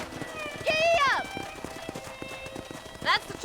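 Horse hooves galloping in the Red Dead Redemption video game, a steady rhythmic clip-clop under a rider's shouts and a horse whinny.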